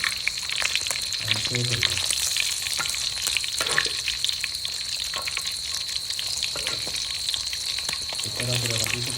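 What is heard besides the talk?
fish heads frying in a pan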